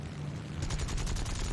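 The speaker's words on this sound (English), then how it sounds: "That was the Yak 90 with his 37mm cannon" Bursts from a Yak-9's 37mm cannon in War Thunder thump in a rapid run of short, deep reports, faint and somewhat distant, packed into barely over a second.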